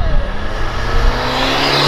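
A BMW accelerating hard in front of a police car, a loud close engine roar with rising pitch as it revs up and pulls away.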